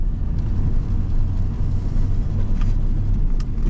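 Two-owner original 1992 Ford F-250 extended-cab 4x4 pickup driving, with a steady loud low engine rumble and road noise heard close from inside the cab.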